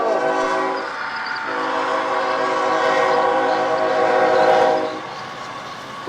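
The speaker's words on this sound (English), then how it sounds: "Here comes the train. Whistle!" A child's toy train set rolls along its track with a loud, steady rumble, and a sustained whistle-like tone holds through most of the stretch before easing off near the end.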